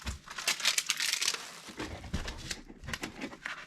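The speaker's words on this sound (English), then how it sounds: "I'm gonna just put them in a Tyvek bag." Tyvek shipping bag crinkling and rustling as an item is packed into it, close and fairly quiet, with irregular papery bursts throughout.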